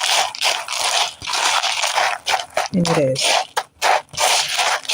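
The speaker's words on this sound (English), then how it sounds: "I'm mixing it around to make sure it's all coated." Gritty scraping and rattling of crumbly crust mixture being stirred in a bowl, continuous and close, with a voice speaking briefly partway through.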